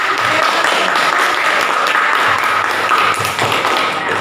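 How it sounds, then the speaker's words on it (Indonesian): A classroom of students in a mathematics lesson claps together, dense steady applause with tapping hands lasting several seconds, close and loud. "Ya, tepuk tangan dulu buat kelas."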